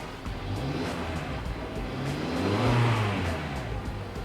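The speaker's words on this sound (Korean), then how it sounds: "출력을 올리고 났을 때 차량에 떨림이 있다든지 잡소리가 나는지 한번 보도록 할게요" A 2019 Hyundai Grandeur IG 2.4 GDI engine revs up, warmed up, its mid-pitched roar rising and swelling to a peak before easing slightly, steady and fairly close.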